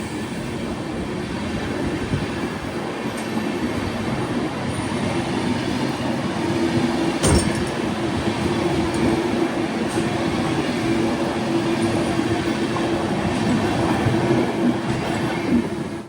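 Poorna Express sleeper-class train running from Goa, a steady loud rumble of wheels on track with faint rhythmic clatter and a brief squeal partway through, heard from inside the coach.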